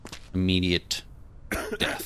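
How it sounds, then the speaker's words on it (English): A sick character coughs and clears its throat in the zombie inspection video game Quarantine Zone: a short rasping burst, then a low harsh guttural stretch and more rough bursts, close and loud, with talk mixed in. "You definitely got some coughing and sick breath"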